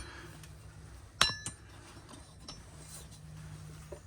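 Two sharp metallic clinks, close together, while the air cleaner is taken off a car engine, against a quiet background hum.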